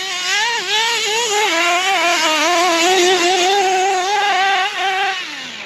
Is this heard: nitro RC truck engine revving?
yes